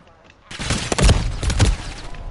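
Gunfire in Call of Duty, a burst of several loud, close shots in quick succession with some sniper-style cracks, starting abruptly and ringing on over faint background game noise.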